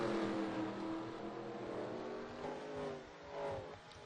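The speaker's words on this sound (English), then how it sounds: "There's Carl Long entering the track right now, 41st quickest." A NASCAR Xfinity Series race car at Martinsville during qualifying, engine droning and revving as it runs around the short track, moderately close and continuous, engine pitch rising and falling.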